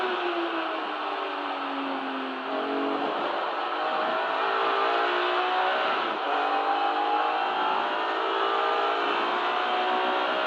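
A BMW race car in the Kumho BMW Championship at Donington Park, running hot, revs its engine loudly and continuously, the steady high drone rising and dipping as it holds gear up close throughout.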